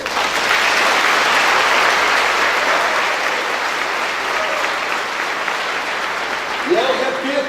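A church congregation bursts into sustained, dense applause that slowly tapers, with a voice beginning to speak over it near the end.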